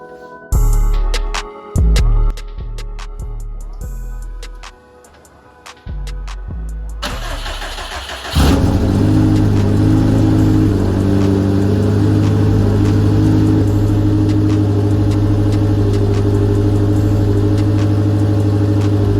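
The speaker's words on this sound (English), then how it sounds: "it should be ready to start" Built Subaru STi engine with a 20G turbo cranks in repeated starter bursts, catches and fires up, then settles into a loud, steady rumbling idle close by, no talk.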